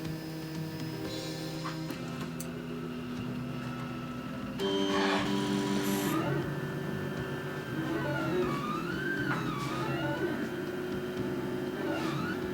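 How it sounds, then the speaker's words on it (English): A CTC Prusa i3 Pro B 3D printer runs quietly, its stepper motors whining in rising and falling pitches as the head moves toward the home position, with a faint steady background hum. "Once the printer reaches the target temperature, it starts moving and go down to the home position"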